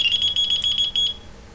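A Delkim bite alarm on a fishing rod sounds a rapid run of sharp, high electronic beeps for about a second, then cuts off, loud and close with no talk.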